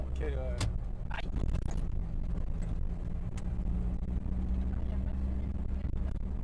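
A Jeep driving with no sound insulation, its loud engine and road noise forming a constant low rumble inside the cabin, while people talk over it now and then.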